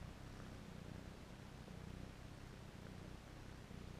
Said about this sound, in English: You keep him awake with that sweet little purr of yours